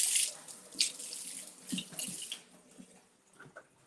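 Water runs from a tap as celery is rinsed in a sink, a close splashing rush that is strongest at first and then thins to a softer trickle, with no talk.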